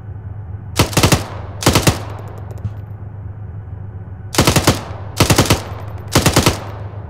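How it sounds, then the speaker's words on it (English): An M240 machine gun fires in the Arma 3 war game, with five sharp, loud bursts of rapid shots separated by pauses of near silence. "switch to our uh, two forty machine gun here"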